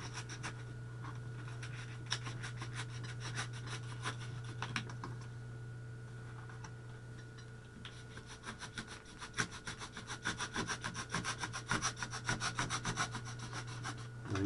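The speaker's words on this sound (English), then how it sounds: "This knife is not nearly sharp enough to get the job done." A dull knife saws and rubs through foam while shaping the leading edge of a homemade flying wing, giving a steady scraping, grinding texture that grows rougher and more uneven toward the end, close and alone over a constant low hum.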